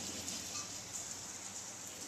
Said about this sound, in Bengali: আর বৃষ্টি পড়ছে